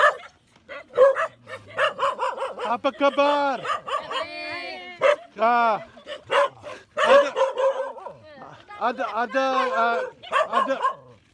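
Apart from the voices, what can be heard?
dogs barking in Bali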